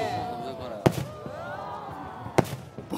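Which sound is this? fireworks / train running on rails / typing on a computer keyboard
fireworks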